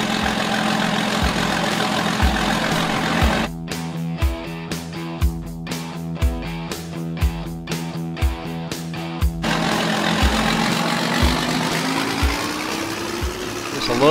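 A John Deere 4440 tractor engine in Farming Simulator 22 labours up a hill in a loud, continuous drone with regular low thumps and a strained harmonic whine through the middle stretch.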